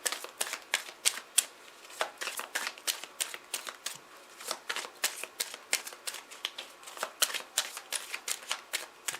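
A deck of cards being shuffled over and over, a rapid run of crisp riffling flicks repeating in quick rhythmic bursts, close and fairly quiet, with no voices.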